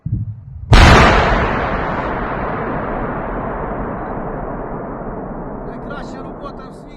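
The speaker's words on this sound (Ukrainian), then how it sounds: "Загальна команда, увага, вибух!" A single powerful blast booms suddenly as the warhead of a drone is detonated by bomb-disposal engineers after a brief moment of low noise, then a long rumbling roar slowly fades out over several seconds.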